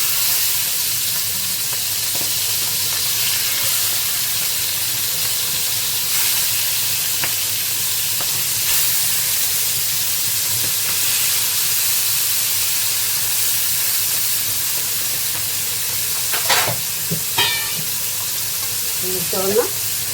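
Chicken liver (kaleji) fries in a pan with a steady, close sizzle throughout, and a few light clinks of stirring near the end.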